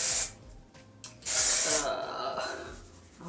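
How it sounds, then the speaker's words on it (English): Texture spray is misted over styled hair in two short, close hissing bursts, one quick and one longer, followed by softer rustling of the hair. "I'm going to start with just a little bit of the texture spray, just kind of all over"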